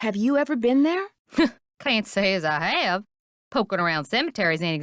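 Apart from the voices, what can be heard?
No distinct noise like a dog, phone or traffic.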